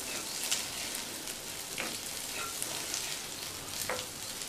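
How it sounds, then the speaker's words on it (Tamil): Masala stirred into scrambled egg in a frying pan, a steady close sizzle and crackle of frying with a few faint spatula scrapes and ticks against the pan, continuous and even throughout, no voices. "இப்போது ஏற்கனவே நம்ம ரெடி பண்ணி வச்ச மசாலாவை அதோடு சேர்த்து நல்லா மிக்ஸ் பண்ணிடலாம்"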